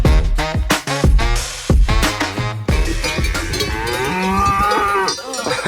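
Cows on a farm in Germany moo loudly and close by, several low bellows in quick succession, while cowbells clank and jingle underneath throughout.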